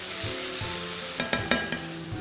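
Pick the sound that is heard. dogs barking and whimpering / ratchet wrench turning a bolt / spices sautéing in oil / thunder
spices sautéing in oil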